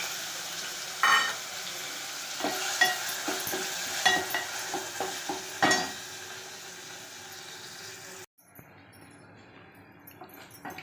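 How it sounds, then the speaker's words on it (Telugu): Chopped tomatoes hit a hot pan and sizzle steadily for a Telugu eggplant-yogurt masala curry, with a few stirring scrapes and utensil clinks on top; the frying continues more quietly near the end. "చిన్న చిన్న ముక్కలుగా కట్ చేసి పెట్టుకున్నటువంటి టొమాటో వేయాలి"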